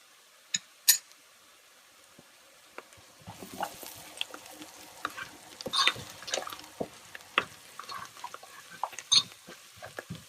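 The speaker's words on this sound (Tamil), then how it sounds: "வெங்காயம் ஒரு டிரான்ஸ்பேரண்ட் ஆகிறது வரைக்கும் நம்ம வதக்குவோம்" Onions and turmeric sautéing in a pan for an anchovy dried-fish curry, with sparse stirring clinks and a soft intermittent sizzle, quiet at first and busier in the second half.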